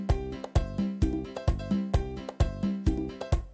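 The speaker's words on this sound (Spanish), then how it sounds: "Ya va agarrando forma el merengue." A merengue rhythm plays on a Yamaha PSR E-463/473 keyboard, with punchy repeated drum hits and bass notes in a fast, even pattern, clear and alone.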